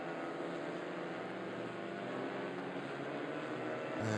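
Clio Cup race cars' 1.3-litre turbocharged four-cylinder engines drone at a distance at Monza in a steady, faint roar, with no speech, rising slightly in the final moment.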